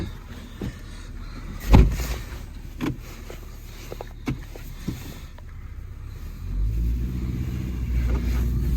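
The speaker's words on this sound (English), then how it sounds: "Getting in my little blue car." Someone climbs into a small blue fuel-efficient car: a few close thumps and knocks from the door and seat, then a low engine hum rises and settles in the last couple of seconds.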